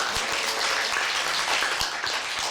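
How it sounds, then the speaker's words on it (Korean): Sustained applause from the audience at a Korean-language speech contest for foreign workers, honoring a contestant; thick, even clapping fills the whole stretch without pause or speech. "다시 한번 큰 박수 부탁드리겠습니다"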